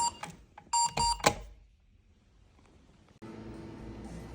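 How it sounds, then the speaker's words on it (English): An alarm clock in a hotel room gives a few short, steady electronic beeps in quick succession, then falls quiet before a broadband rushing noise starts up. "Kto włączył budzik w hotelu?"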